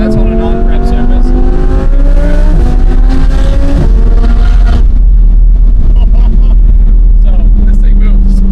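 A supercharged Audi R8 accelerates hard with a loud, close engine roar that climbs in pitch through several quick gear shifts, then settles into a lower steady drone.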